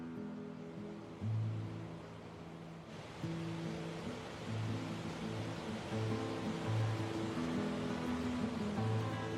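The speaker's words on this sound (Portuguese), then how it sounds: "O conjunto de quedas despeja até 6 milhões de litros por segundo." Iguaçu Falls pour huge volumes of water, a steady broad roar of rushing water that swells slightly partway through, continuous and without voices.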